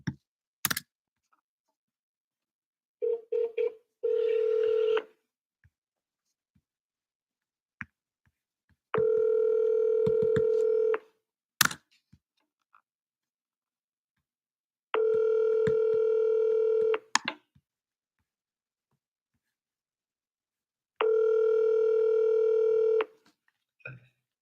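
A telephone call to a lead, with short dialing clicks and tones, then a steady tone sounding in four long, evenly spaced stretches of about two seconds each with silence between them, clear and close.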